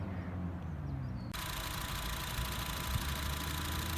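A Honda City's 1.3-litre i-VTEC engine idles steadily, a low continuous hum, with a broad hiss suddenly joining in after the first second.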